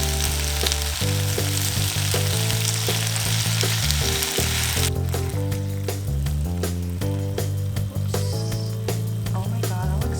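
Rice paper tteokbokki skewers fry in sauce in a hot pan over low heat, a steady close crackling sizzle with occasional stirring, while music plays loudly over it.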